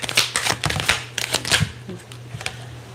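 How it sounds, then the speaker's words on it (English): Tarot cards being shuffled in quick bursts of papery riffles and soft snaps, close and fairly loud, with a low steady hum underneath and a brief voice near the middle. "Y'all see how I shuffle."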